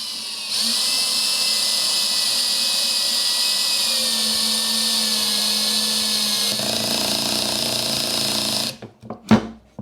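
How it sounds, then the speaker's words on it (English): Metabo HPT 36V MultiVolt 1/2-inch hammer drill (DV36DAQ4) on low speed, clutch setting 1, driving a bit into lumber: a steady high motor whine runs for about eight seconds, dips in pitch partway, then stops, followed by brief handling clatter. "So let's take this bit here, we'll put it on mode 1, right? Or clutch setting 1 on low."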